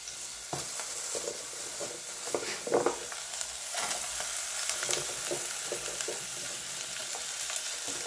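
Green onion and onion fry in a hot pan, with a steady sizzling hiss and scattered crackles and stirring scrapes throughout, close and fairly loud with no talking.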